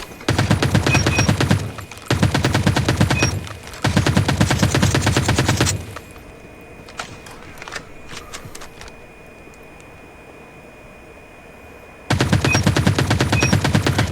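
Rapid automatic fire from an ASM10 assault rifle in the mobile shooter Call of Duty Mobile, loud sustained bursts separated by short pauses, then a quieter stretch of faint clicks and game ambience before another long burst.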